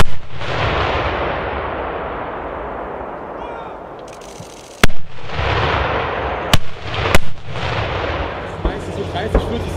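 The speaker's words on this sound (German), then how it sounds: "Und dann irgendwann schlagen die Granaten da hinten ein." Distant M120 mortar shells impact one after another, sharp booming cracks rolling out across open ground over a steady windy rumble.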